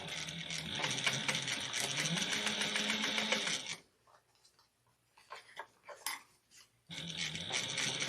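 A sewing machine topstitches a fabric pouch with a fast, steady whirring run, pauses for a few seconds of soft handling clicks, then starts stitching again, close and clear.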